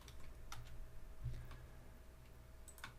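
Keys tapped on a computer keyboard while entering a stock index symbol into charting software, a few faint scattered clicks over a low steady room hum.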